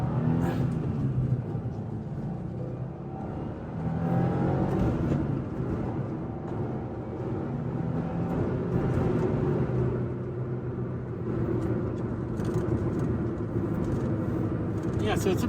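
A Subaru WRX engine drones steadily and builds under hard acceleration, with a low rumble running throughout and people talking over it inside the cabin.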